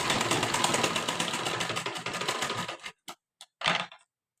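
A sewing machine runs in a fast, steady chatter while stitching a blouse seam, then stops, followed by a few short separate bursts of stitching near the end.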